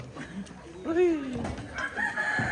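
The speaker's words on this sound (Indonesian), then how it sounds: "Jago na." A rooster crows at a rural home in Toraya, one drawn-out rising and falling call at middle distance, with faint voices and a low background murmur around it.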